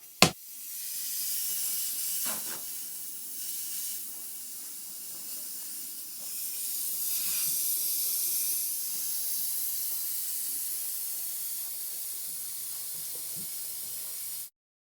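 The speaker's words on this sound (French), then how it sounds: "le principe, c'est de la dévisser très lentement pour laisser passer un léger filet d'air" A radiator bleed valve, opened very slowly, lets air escape in a steady, thin hiss that runs for about fourteen seconds after a sharp click, swelling slightly midway before cutting off abruptly.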